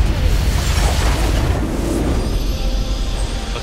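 Explosions in the video game League of Legends, a loud, dense rumbling boom with a low roar that fills the whole stretch and eases slightly toward the end, with no talking over it.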